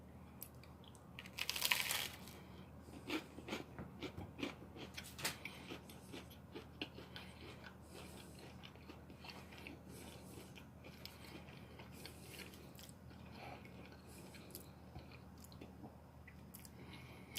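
Someone bites into food topped with Augason Farms butter powder and chews it. One crisp bite comes early, followed by a long stretch of soft, close, quiet chewing and squishing.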